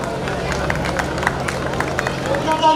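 An audience at a Dr. Ambedkar Jayanti event applauds, a dense, steady wash of clapping with crowd murmur throughout.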